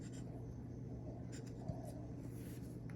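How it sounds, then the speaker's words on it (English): Pen drawing a line on material for a crochet shoulder bag, a faint soft scratching stroke with one small tap, very quiet against a low background hum. "I'm going to draw about 1/2 inch out from there"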